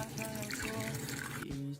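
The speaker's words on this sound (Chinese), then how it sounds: "倒些冷水" Cold water pours steadily in a home kitchen, a continuous splashing trickle that stops abruptly near the end.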